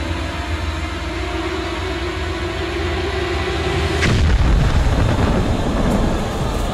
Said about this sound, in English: Outran a fucking missile attack? A nuclear missile attack?